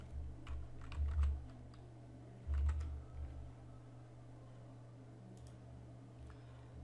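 Keys clatter on a computer keyboard as text is typed into a graphics editing program, quiet clustered bursts of clicks with pauses between them and no talking.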